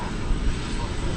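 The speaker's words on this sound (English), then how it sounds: "It's an Airbus A319." An American Airlines Airbus A319 at DFW Airport gives off a steady, fairly faint engine roar, a short unbroken rumble heard at a distance.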